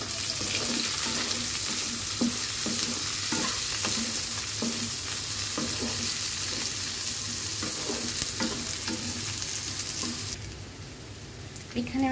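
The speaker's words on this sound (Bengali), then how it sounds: "একটু ভেজে নিব, দিয়ে দিব পেঁয়াজ কুচি আর মরিচ কুচি।" Chopped onion and chili fry in hot oil for dragon noodles, a steady loud sizzle broken by regular scraping strokes of a spatula, easing to a quieter hiss near the end; no talking.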